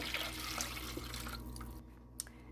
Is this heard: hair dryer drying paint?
no